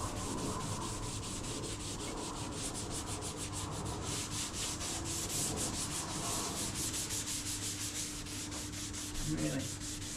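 Finish is rubbed hard into sanded wood grain by hand, a steady rapid scrubbing rasp repeating in quick strokes, close and continuous with no talk.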